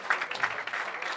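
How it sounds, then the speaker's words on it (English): Audience clapping at a live business networking event, a steady dense patter of many hands at moderate distance with no pauses across the short stretch. "Guys, keep the claps going."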